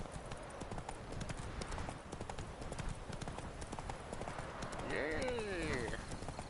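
Roach the horse trotting in Witcher 3, a rhythmic clip-clop of hooves on a road, quite close, with a person talking over it throughout.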